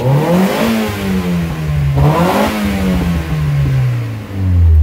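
A Mazda Miata with a manual conversion revs loudly and up close, its engine note climbing and falling through two sweeps, with faint crackles from overrun pops as it comes off throttle; no one speaks.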